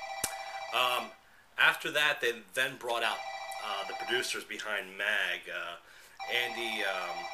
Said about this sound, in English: I apologize for my phone ringing.